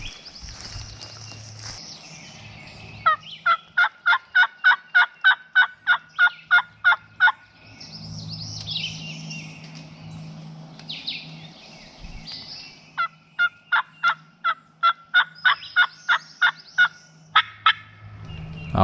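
Wild turkeys in Illinois, heard in bad weather, give long rhythmic runs of sharp, evenly spaced calls, about fifteen notes each, broken by a rougher, noisier gobbling passage at moderate distance.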